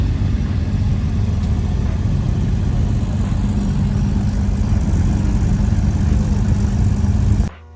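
A 4-cylinder Alfa Romeo Giulietta Sprint Speciale runs at a steady idle at a cars-and-coffee meet, a close, even low engine rumble that holds constant before cutting off at the end.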